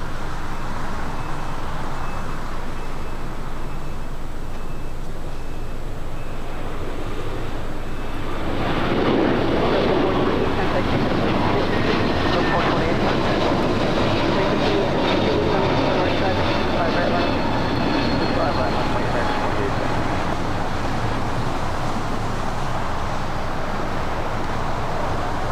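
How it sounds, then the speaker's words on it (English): A Delta Airlines Airbus A321neo taking off from the south side of LAX, its broad jet roar swelling in loudly partway through and holding steady at the airport, with wind and ambient noise beneath. "Next takeoff here on the south side. Delta Airlines Flight 428 heading to La Hui."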